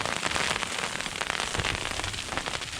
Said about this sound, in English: Hail shower.